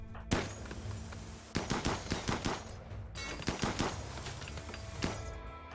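Gunfire erupts as colonists shoot a raider in the video game Rimworld, with sharp shots in quick irregular bursts and scattered single cracks, moderately loud and without talk.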